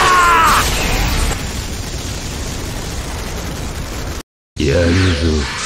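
An explosion in the Mugen fighting game, a loud roaring blast that opens with a crack and rumbles on as a sustained dense boom, then cuts to silence before a second burst with tonal effects.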